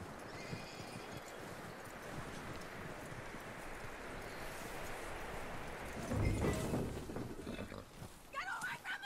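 Horse hooves clop steadily amid a noisy, busy background in Red Dead Redemption 2, with a louder burst of movement and snorting near the end.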